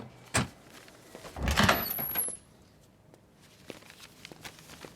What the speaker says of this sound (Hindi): मैं दरवाजा अनलॉक करती हूँ